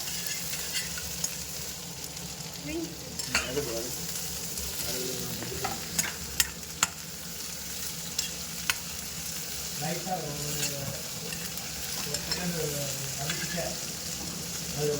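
Spices sizzle steadily in a hot pan for blood gravy while a utensil stirs and scrapes, with scattered clicks and clatters over the constant frying hiss.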